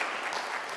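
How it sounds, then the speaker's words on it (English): Brief burst of steady applause from a crowd at a university career expo, honoring the Office of Career Services, dense and continuous for under a second. "Let's give them a big round of applause."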